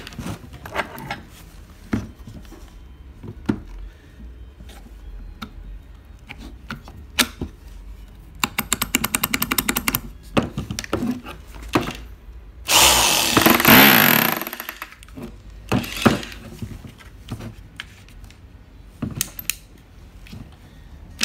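A rotary hammer in chiselling mode hammers in bursts of rapid mechanical knocking and rattling, with pauses between runs and one longer, louder stretch in the middle.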